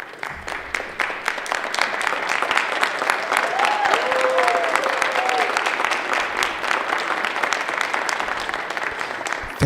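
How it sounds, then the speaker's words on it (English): A graduation ceremony audience claps steadily in sustained, dense applause, with a few faint cheers rising briefly near the middle before the clapping continues evenly to the end. "give a round of applause for our graduate"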